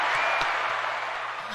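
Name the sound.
applause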